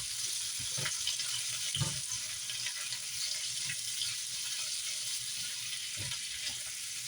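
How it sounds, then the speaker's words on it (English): Shrimp for fried rice frying in a pan, a steady soft sizzle throughout with occasional thumps and scrapes as they are moved around, close but quiet, with no talking. "I'm just going to move these around, cook them really quick."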